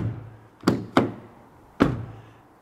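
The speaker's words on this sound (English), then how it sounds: "let's just talk about the doors here. Just the sound of the doors closing." Cab doors on a Scania S Series truck shutting, three fairly light, hollow thunks heard close by, the first two in quick succession and the third after a short pause.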